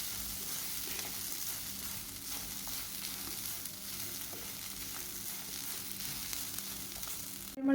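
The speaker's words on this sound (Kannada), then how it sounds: "ಇದನ್ನು ಹಾಗೆ ಫ್ರೈ ಮಾಡ್ಕೊಳ್ಳೋಣ." Pineapple menaskai ingredients fry in a pan over a low flame, giving a steady, soft sizzle that runs on evenly throughout, with faint stirring scrapes and a brief louder knock right at the end.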